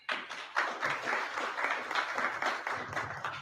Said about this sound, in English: And we give him a round of applause.